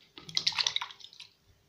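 A handful of strawberries tumble into the jug of a juice machine, giving a brief cluster of soft, wet thuds and patters close by that fades after about a second.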